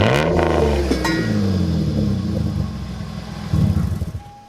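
A car with a homemade fabricated exhaust system cranks and fires up, then settles into a loud, rumbling idle with a brief rev near the end.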